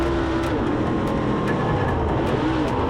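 Dirt track race cars roaring around the oval in a cold Friday night preliminary at the Nippy 50, a loud, dense, unbroken engine drone, close and constant, with no talking.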